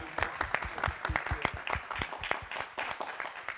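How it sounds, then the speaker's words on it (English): Audience at an academic conference panel applauding, a small room of sparse, distinct hand claps at moderate volume holding steady for a few seconds. "Let's give our panelists a round of applause."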